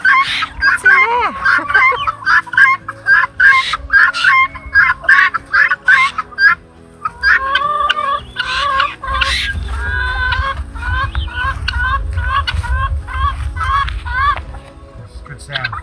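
Hens cluck and squawk in a busy, overlapping chorus, with people talking at times and a low rumble building in the second half.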